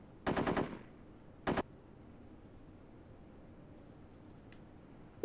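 Automatic gunfire in the PS2 squad tactics game Full Spectrum Warrior: a rapid rattling burst, a second short burst, then quiet background ambience with a faint distant crack near the end.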